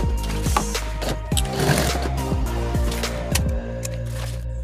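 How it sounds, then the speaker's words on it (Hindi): A sewing machine stitches a folded pocket strip onto a travel bag, running in short mechanical bursts with brief pauses between them, close and steady. "इसके ऊपर इस तरह से रखकर हम सिलाई कर लेंगे"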